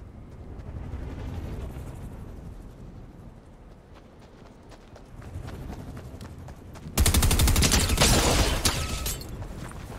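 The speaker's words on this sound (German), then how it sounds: "Aber das galt nicht mir, der Schuss." Gunfire in the Fortnite video game crackles in sharp bursts, sparse at first, then a loud dense volley near the end that drowns out the background.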